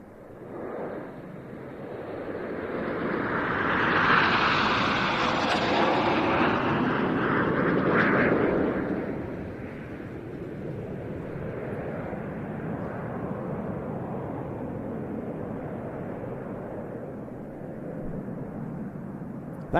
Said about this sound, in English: This is just a fly past in line astern.